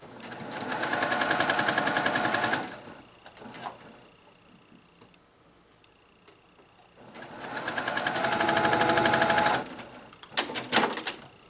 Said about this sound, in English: I go 1 to 2 stitches over where the seams intersect